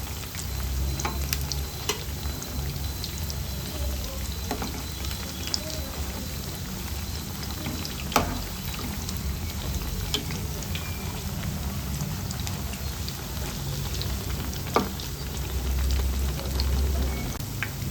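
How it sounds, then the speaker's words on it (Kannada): Raw banana bajji deep-frying in hot oil, a constant crackling bubble like light rain, with occasional sharper pops and spatters over a long, even stretch. "ಬಜ್ಜಿ ಚೆನ್ನಾಗಿ ಫ್ರೈ ಆಗಿದೆ, ತಗೊಳ್ಳೋಣ ಈಗ."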